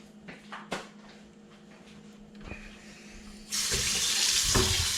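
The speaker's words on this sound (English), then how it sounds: "Rinse it out." A Lodge cast iron skillet being rinsed under a running tap at a camp: a few light knocks and clinks, then water gushes loudly and steadily into the pan for the last part.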